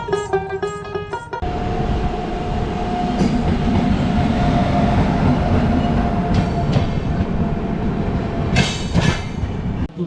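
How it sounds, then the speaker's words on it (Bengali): A passenger train from Kolkata to Bolpur pulls away and runs steadily, with a loud continuous rumble and wheel clatter heard from inside the carriage, and occasional higher squeals and rattles. "ট্রেন আবার এখান থেকে ছেড়ে দিয়েছে"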